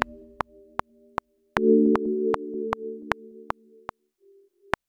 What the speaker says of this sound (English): I chose a very simple pad in Logic's Alchemy, sine wave, sine bell pad